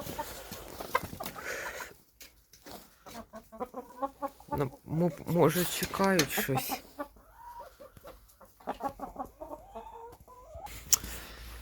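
Hens clucking and squawking close by in irregular bursts after being fed grain, with someone speaking briefly and a quiet pause in between.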